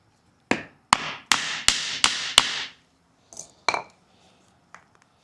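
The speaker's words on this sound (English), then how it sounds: "I'm over here at the anvil. I'm ready to punch the hole so I can install the snap on the outside" A hole punch is struck into a leather sheath on an anvil with six sharp, ringing hammer blows in quick, even succession, followed by a few lighter taps and clinks.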